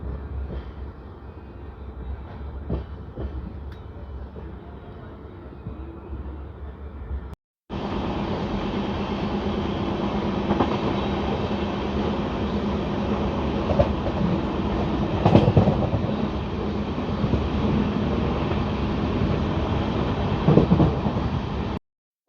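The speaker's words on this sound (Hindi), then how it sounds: "डिपार्चर हो गया है फगवाड़ा जंक्शन से" An 11906 Hoshiarpur Agra Cantt Express LHB train departs Phagwara Junction, heard from inside as a steady rumbling roar with faint rhythmic clacks. The sound jumps to a louder, fuller run partway through. No one speaks.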